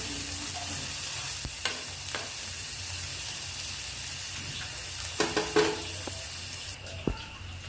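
Chopped onions and green chillies frying in a pan, a constant close sizzle broken by spatula scrapes and clinks that grow busier toward the end, no voices.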